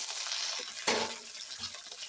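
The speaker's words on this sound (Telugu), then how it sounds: "దీనిలో ఫస్ట్ పచ్చిమిర్చి వేసుకోండి" Green chillies fry in a small amount of oil in a pan, giving a soft steady sizzle with a brief louder burst as they hit the hot oil, plus light stirring clinks.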